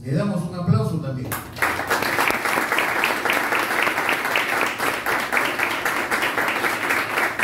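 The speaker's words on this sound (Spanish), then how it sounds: "Le damos un aplauso también." Audience applause fills a ceremony hall after a short spoken lead-in, a dense and steady round of clapping that holds loud and even through to the end.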